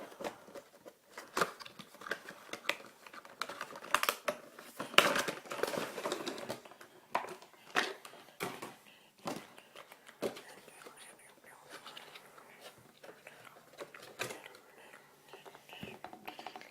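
Cardboard packaging of a Funko Spider-Man bobble head is opened with irregular crinkles, scrapes and soft taps, fairly quiet and close, with faint voice in places.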